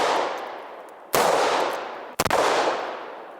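Two loud gunshots from a 38 Special revolver loaded with Hornady Critical Defense rounds, fired at a ballistic plate, each a sharp crack with a long ringing decay, about a second apart, with no talk.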